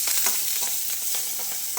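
Garlic and curry leaves frying in oil for a tempering, a continuous loud sizzle with faint stirring scrapes running through it and no talk.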